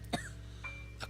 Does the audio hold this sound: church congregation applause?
no